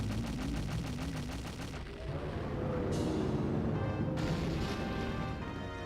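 Twin Mold, the boss in Zelda: Majora's Mask, bursts apart in a loud, continuous barrage of game explosions layered over the soundtrack, with sharp blasts that keep repeating.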